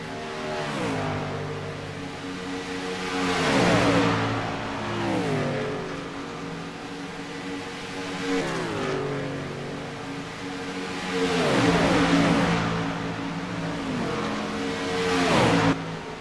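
Xfinity Series race cars in a racing game roar past in repeated waves, engines revving up and dropping in pitch as each pack sweeps by, loud and continuous with no talk.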